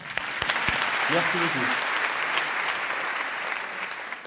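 An audience applauds Rose at a comedy show in Saint-Etienne, a steady, dense wash of clapping filling the whole stretch while someone briefly speaks over it.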